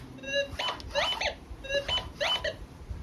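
Electronic beeping tones from a metal detector over a scoop while gold prospecting, repeating in a quick warbling pattern of short pulses, fairly faint, with soft scraping noise underneath.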